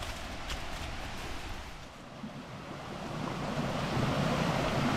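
A small creek along a trail on the Blue Ridge Parkway in North Carolina flows and rushes in a steady, broadband wash that swells slightly toward the end, with no talk.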